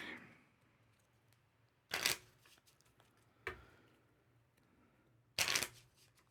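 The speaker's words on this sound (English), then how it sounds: "So we'll take those 3 and shuffle them into the deck." Three short bursts of playing cards from a board game being riffled and shuffled into the deck, spaced a second or so apart, fairly close in an otherwise quiet room.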